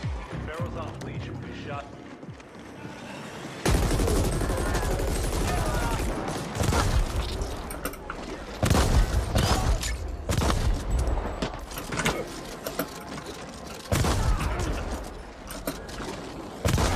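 Shotgun gunfire from the video game The Ascent, fired at thugs: after a quiet opening, loud booming blasts arrive in clustered bursts over layered combat noise and mechanical clicks, with a voice speaking intermittently.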